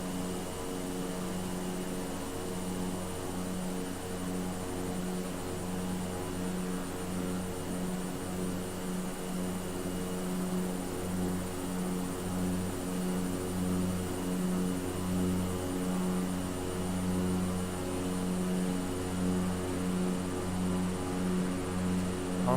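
A Cessna 208B turboprop engine in Microsoft Flight Simulator gives a steady, continuous droning hum with a buzzing propeller tone, holding level throughout with no voices.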